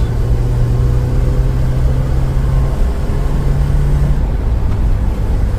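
A $500 4x4 Isuzu Trooper drives down the road, heard as a loud, steady low engine drone and road rumble from inside the vehicle, with no one speaking.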